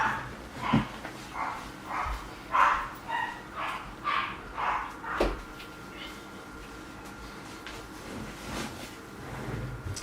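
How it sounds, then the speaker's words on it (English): Small dogs bark in a quick run of sharp yips, several barks spaced about half a second apart, then fading into quieter whimpers, heard at moderate distance in a room. "The little dogs with the big bark."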